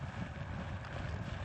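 A hurricane wind gust during Hurricane Milton at Daytona Beach, reaching about 102 mph, roars as continuous buffeting noise hitting the microphone for a brief moment, dense and unbroken with no voices.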